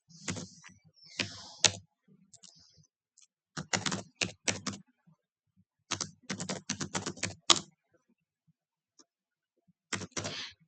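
Keys clatter on a computer keyboard in short, quick bursts of typing separated by pauses, crisp and close, with no voices.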